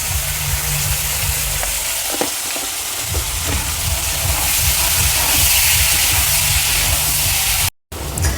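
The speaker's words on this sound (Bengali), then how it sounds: "দেখুন আমার গাজর ভাজা হয়ে গেছে" Carrots fry in hot oil with a steady, close sizzling hiss that runs for several seconds, briefly cuts out near the end, then resumes. No one speaks.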